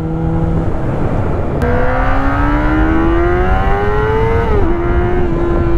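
A sports car engine revs high and loud on its own, the pitch climbing steadily through the gear before dropping slightly and holding.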